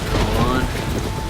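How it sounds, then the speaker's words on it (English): Steady rain falling outdoors at an airport gate as a storm approaches, a continuous even hiss of drops with a low rumbling background, no clear individual drops standing out. "It's starting to rain."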